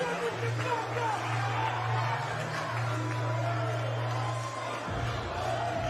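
A boxing arena crowd roars and cheers during a heavyweight fight, a steady, loud wall of voices that keeps going throughout with a low hum underneath.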